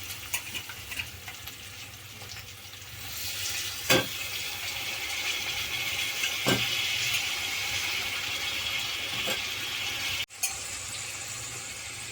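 Crab pieces fry with onions and ginger-garlic paste in a pan, giving a steady close sizzle with a low rumbling hum underneath and a few sharp clacks scattered through. No one speaks.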